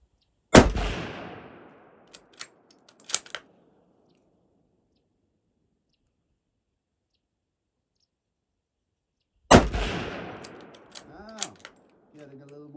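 A rifle fires two loud, sharp shots about nine seconds apart during a quick zero check, each blast decaying into a ringing echo and followed by a few faint mechanical clicks of handling.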